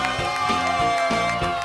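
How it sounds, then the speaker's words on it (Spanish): A TV studio audience applauds and cheers as a magician, Eros Magic, is welcomed onto the show, producing a dense, sustained wash of clapping under music. "Un aplauso para él."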